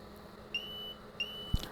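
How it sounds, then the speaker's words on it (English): A timer alarm on a Seismo S20 DTF powder station gives two short, faint electronic beeps about half a second apart, followed by a soft thump, in a quiet room. "There's our timer and our alarm."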